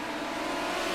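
Midget race cars at Lucas Oil Speedway, a steady distant engine drone from cars spread around the track, faint and even for a brief moment with no voices.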